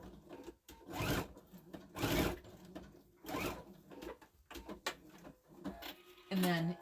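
Sewing machine stitching a bag seam in short, uneven bursts of mechanical whirring, with pauses and fabric handling between runs, moderately close and fairly quiet.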